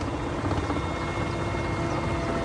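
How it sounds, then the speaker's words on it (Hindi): An army rescue helicopter flies over snowbound Himachal Pradesh near Manali and Lahaul, giving a steady, dense rotor and engine roar that holds constant throughout with no voices. "लगातार हमारे जवान हेलीकॉप्टर से ये बचाव अभियान चला रहे हैं"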